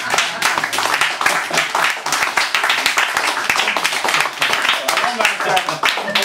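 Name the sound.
audience applause after a comedy set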